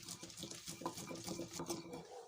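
Ginger garlic paste is stirred into a dish in a home kitchen, with a utensil scraping and clinking against a metal pot in an even, continuous rhythm at moderate loudness.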